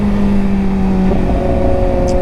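Kawasaki ZX-4RR sport motorcycle engine running loud and steady, a strong droning tone that shifts pitch partway through as if revving or changing gear, close and alone with no talk.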